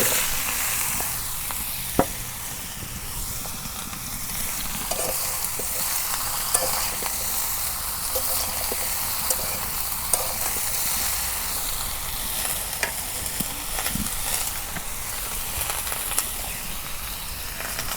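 Rupchanda fish fries in a pan with eggplant on a home stove, giving a steady, moderately loud sizzle with occasional sharp pops and stirring clicks throughout.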